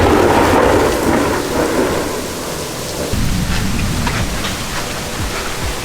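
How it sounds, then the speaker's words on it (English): Loud thunder booms through a heavy rainstorm at Disney World, a deep rolling rumble fading then cracking again midway, layered over a constant close wash of rain with no talking. "I have not heard thunder and lightning that loud before"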